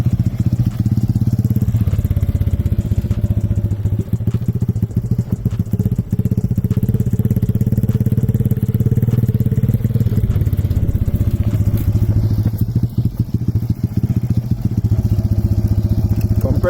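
A motorcycle runs steadily at low revs while a learner rider releases the clutch in second gear. The engine rumble is close and loud and keeps an even, throbbing pulse with slight changes in load throughout.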